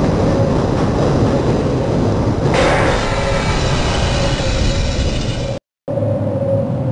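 A tram ride inside the Half-Life video game, with a steady, loud rolling rumble and rail noise. The sound shifts partway through and cuts out briefly near the end before resuming.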